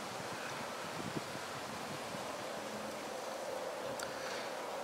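Wind gusts blow through backyard trees and give a steady, soft rustle with no voices.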